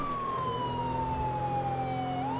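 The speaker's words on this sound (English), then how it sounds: "I'm gonna run the siren while I'm on my way." Police car siren in a cop game, a loud continuous wailing tone sliding slowly downward then rising again, over a steady engine and road rumble.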